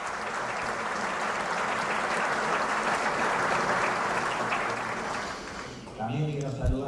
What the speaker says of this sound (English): Please, a round of applause for my colleagues.